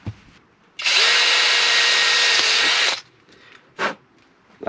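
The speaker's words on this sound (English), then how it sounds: "So get a 4mm drill bit," A power drill fitted with a 4mm bit bores a hole for a temperature sensor on a 12-volt water heater, giving one loud, steady whine of about two seconds and then a couple of short bursts, close up.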